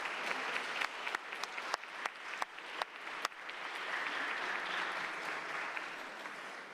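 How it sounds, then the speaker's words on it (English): City council chamber audience applauds as honorees leave a meeting, a faint dense patter with a few sharper individual claps early on, continuing steadily. "Let's give them another round of applause as they head out."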